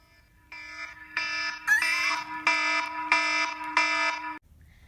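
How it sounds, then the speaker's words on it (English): A house alarm blares in loud repeated electronic tones, about six sustained pulsing bursts with a shrill rising chirp among them, close and insistent, then cutting off abruptly. "So now you have this stupid alarm that you can't ignore and it won't turn off."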